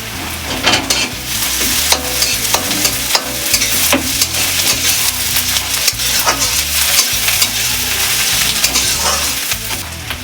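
Green chilies frying with crushed ginger and garlic in hot oil, a loud continuous sizzle with repeated scraping of a spoon stirring the pan.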